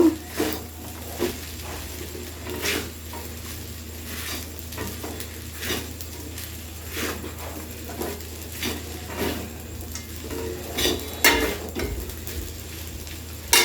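Sabudana pulao stirred in a pan after a pinch of sugar goes in, with soft repeated scraping and clinks of a spoon against the pan over a faint steady sizzle, no voices.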